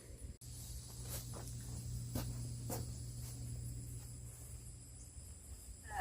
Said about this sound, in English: You know, grasshoppers and crickets in here.